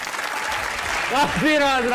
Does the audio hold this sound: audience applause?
yes